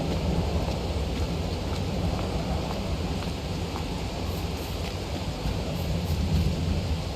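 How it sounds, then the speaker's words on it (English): Thunder rumbles through steady rain in the video game Farming Simulator 22, a continuous dense low roar with no talk on top. "It's thundering."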